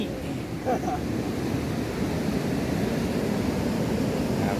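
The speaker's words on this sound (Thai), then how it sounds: "น้ำไหลแรงวนแรงครับ" A strong swirling river current at a whirlpool where people cast-net for fish makes a loud, constant roaring rush of water mixed with wind buffeting the microphone, steady from start to finish.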